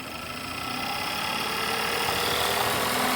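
A car engine idling during diagnosis with the coolant temperature sensor unplugged, the revs rising slightly and holding; a steady close mechanical hum and drone with no one speaking.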